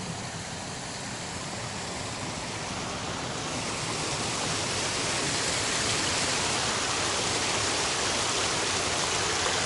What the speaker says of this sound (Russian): Вот стекает с болота вода.